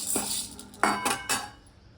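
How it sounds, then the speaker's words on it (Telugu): Chana dal roasting in a dry pan for curry leaf powder, heard as a few scraping, rattling stirs of metal against the pan, close and moderately loud with pauses between strokes. "శనగపప్పు వేయిద్దాం ఎందుకంటే ఇది వేగడం కొంచెం లేట్ కాబట్టి ఇలాగా దూరగా వేయించుకోవాలి"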